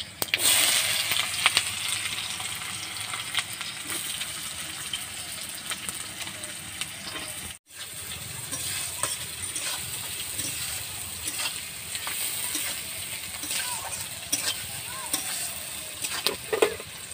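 Chopped onion frying in oil with cardamom, mace powder and cinnamon for homemade chicken biryani, a steady close sizzle with stirring scrapes, a brief break partway, then continued crackling.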